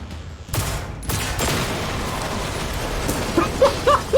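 Nail gun fire in the video game Generation Zero, a rapid crackling burst of repeated shots over steady rumbling background, with a few sharp electronic chirps near the end; close and loud, no voices.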